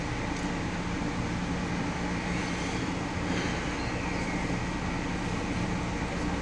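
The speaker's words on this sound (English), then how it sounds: "We have now departed Alexandria, and the next stop will be Manassas, our stop." Passenger train pulling out of Alexandria station, heard from inside the car as a steady low rumble and rolling hum with faint squeals, continuous and even.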